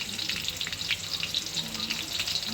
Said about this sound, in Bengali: পিঁয়াজ কুচি দেওয়ার পরে তেলের ভিতরে চিংড়া মাছ দিয়ে দিছি কাঁচামরিচ রসুন কুচি দিয়ে দিলাম